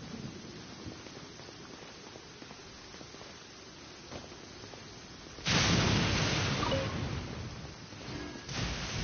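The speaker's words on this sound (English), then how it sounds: "Where is the storm headed?" A video game thunderstorm in Genshin Impact, with a steady hiss of rain and then a loud, close rumble of thunder that swells and lingers, followed by a second surge.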